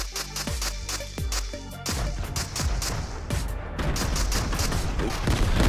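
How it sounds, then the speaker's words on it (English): A weapon in airstrike mode firing in Fortnite Save the World, loud repeated booming blasts in a steady rhythm over a thick layer of explosions and game noise. "basically looks like you're shooting an airstrike"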